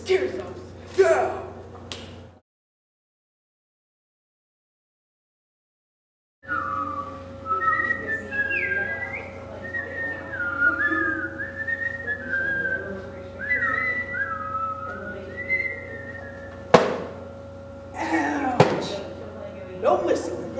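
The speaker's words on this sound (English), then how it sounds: "No whistling in my classroom." Someone whistles a short wavering tune, after a stretch of near silence, with a few sharp knocks and slaps near the end.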